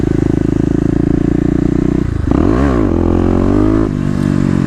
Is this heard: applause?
no